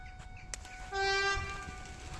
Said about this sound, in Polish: No już, pociąg przejechał.